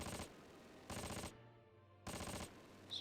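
Machine gun fire in the Close Combat war game comes in three loud, rapid bursts, separated by short pauses with a faint background hum.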